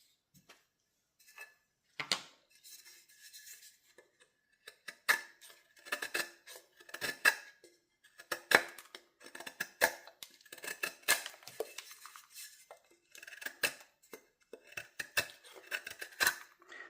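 A Swisstech Praktisch multitool's straight-edge blade cuts through material with repeated short snips and crisp scraping strokes, close and fairly quiet, with brief pauses between cuts and no talking.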